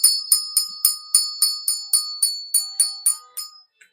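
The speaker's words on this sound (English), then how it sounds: "baby, ring that money bell." A bright bell rings in a quick, even series of about a dozen clear strikes, each fading briefly before the next, ending with one faint final tap.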